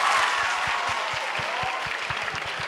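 High school students at a surprise film promotion event cheer and applaud loudly and continuously, with rhythmic clapping standing out under the crowd noise.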